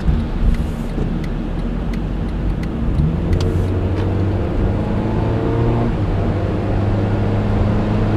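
A 2013 Honda Fit Base drives at night, its engine and road noise forming a continuous loud hum inside the cabin, with the engine note rising as it accelerates.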